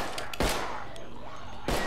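Two sharp gunshot bursts in the video game Contagion, one near the start and one near the end, punctuate a quiet low background.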